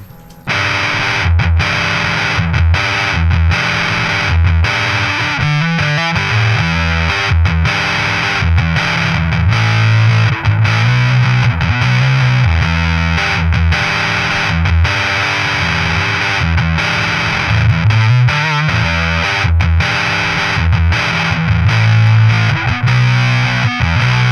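A distorted, fuzzy bass guitar riff played through a DusTone Warm and Fuzzy fuzz pedal plays continuously and loud, thick and saturated with steady rhythmic notes and no voices.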